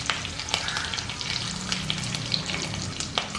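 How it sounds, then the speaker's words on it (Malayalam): Curry leaves frying in hot oil, a steady close sizzle and crackle with a few sharp spits and pops, no talking. "അതിലോട്ട് എടുത്ത് വെച്ചിരിക്കുന്ന കറിവേപ്പില ഇട്ട് കൊടുക്കാം."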